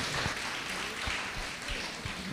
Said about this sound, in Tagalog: Bigyan po natin ng isa pang palakpak ang Panginoon